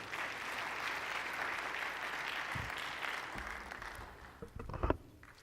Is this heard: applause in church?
yes